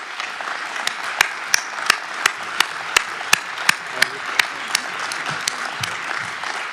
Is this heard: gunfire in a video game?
no